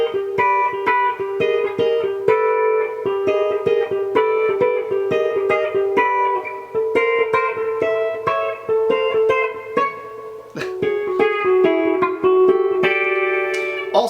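Solo electric guitar slowly works through a chord passage, with a steady series of ringing, reverb-soaked chords changing every second or so, played up close for about fourteen seconds without any talking.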